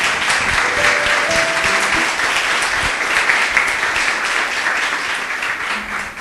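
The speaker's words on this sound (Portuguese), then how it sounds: "Palmas para o Senhor." A church congregation applauds steadily and loudly for several seconds, a dense wash of many hands clapping, with faint voices and a brief musical tone underneath.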